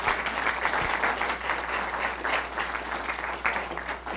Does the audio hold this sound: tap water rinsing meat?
no